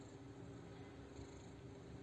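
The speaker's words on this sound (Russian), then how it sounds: "Кто тут мурлыкает на фоне?" Soft, steady purring from a nearby cat, a low continuous rumble with no other sounds over it.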